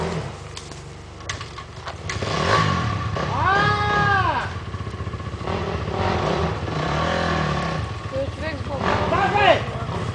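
A small engine revving hard as the throttle is opened on rough, rocky ground, its pitch rising and falling in several whining sweeps, under shouting and talking voices nearby.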